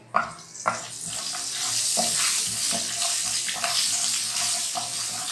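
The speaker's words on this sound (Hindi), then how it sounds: "गरम मसाले को थोड़ा सा ऑयल में फ्राई करना है।" Crushed garam masala frying in hot oil over a raised flame, a close, continuous hiss with a few clinks and stirring scrapes at the start, no talking.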